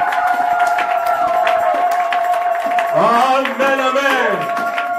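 A French-speaking church congregation cheers and acclaims Jesus during a sermon, with loud sustained voices joined in a steady roar and rising, sliding shouts that swell near the end.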